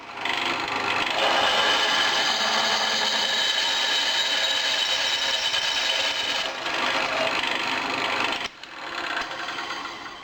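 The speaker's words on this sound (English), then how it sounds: "So we'll drill a hole in it and we'll see what happens." A drill bores a hole through a thin cast iron casting made from a melted disc brake rotor, giving a steady, loud grinding whine that holds for several seconds, dips briefly, then stops and restarts.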